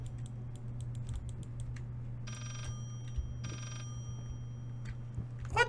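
A telephone rings in the horror game Layers of Fear, with two steady bursts of bright trilling ringing over a low constant hum and scattered clicks.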